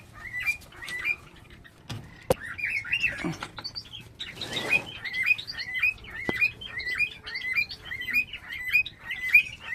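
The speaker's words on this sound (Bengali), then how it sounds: "যেমন খাবারের পাখিগুলো কী সুন্দর ডাকছে দেখুন" Java sparrows chirp repeatedly while feeding, a steady run of bright, short, clustered calls that carries on throughout, close by and fairly loud, with a brief rustle of flapping or movement midway.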